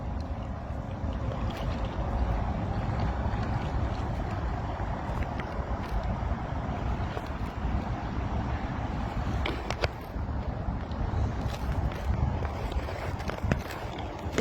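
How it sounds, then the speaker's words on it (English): Rushing river rapids under the I-80 bridge heard from a paddling boat, a steady loud broadband wash of turbulent water with wind buffeting and occasional knocks, continuous throughout. "Some rapids under here, so it's going to get a little bit bumpy."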